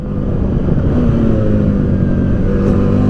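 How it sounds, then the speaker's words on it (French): A CFMOTO 800 MT adventure motorcycle with its KTM-derived 799 cc parallel twin, ridden on a road test, giving a loud, steady, close engine drone with wind rush throughout. "On a commencé l'essai CF Moto 800 MT tambour battant avec une mise en valeur tout de suite du Twin de 799 cm3 d'origine KTM"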